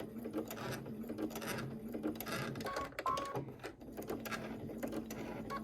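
A sewing machine backstitching to secure a seam on thick fabric for a cosmetic bag, quiet close mechanical whirring and ticking in short bursts with brief pauses and reversals.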